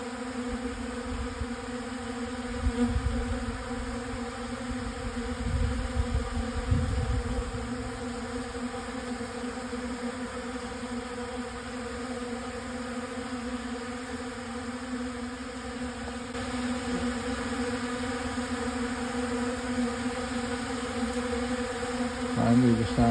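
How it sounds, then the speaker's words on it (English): Honeybees foraging fill the air with a steady, continuous buzzing drone of many insects at close range, with no talking. "Finally, the sound of bees foraging."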